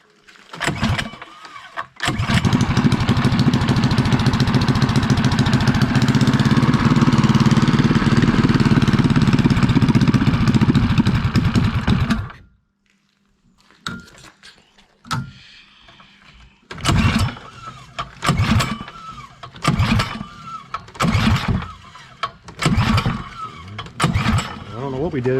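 A 212cc engine on a mini chopper runs loud and steady for about ten seconds, then cuts out abruptly and is followed by short, uneven bursts of revving as the throttle is blipped.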